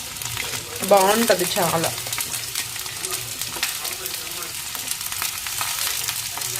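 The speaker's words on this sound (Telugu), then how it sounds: "క్యాప్సికమ్ ఆలు వేసేస్తున్నాము" Capsicum and potato sizzle in a hot pan while being stirred, a constant close crackle with scraping, and a voice speaks briefly near the start.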